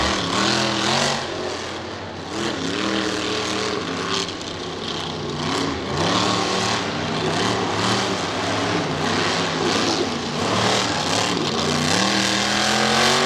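A big monster truck engine revs hard and loudly at Bristol Motor Speedway during a test and tune run, its pitch rising and falling in repeated surges, with a constant roaring drone underneath.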